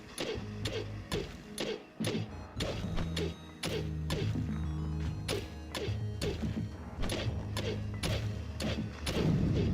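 Tiles are smashed and destroyed in a video game, with repeated sharp crashes and thuds in an irregular rapid rhythm over a busy layer of background game sound.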